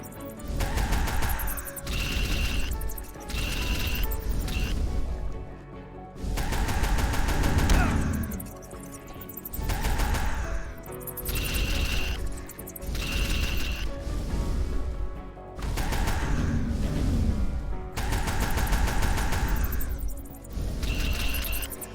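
Repeated bursts of rapid gunfire aimed at the player in UnMetal, loud, dense volleys lasting a few seconds each, separated by short gaps, with crashing impacts mixed in throughout.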